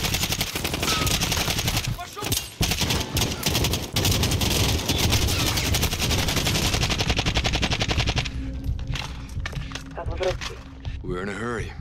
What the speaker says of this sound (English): just start shooting shit